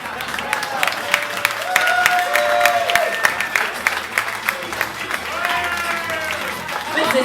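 Audience clapping at a drag roast at the Royal Vauxhall Tavern, a steady crowd applause running the whole time while an amplified host talks and music plays over it.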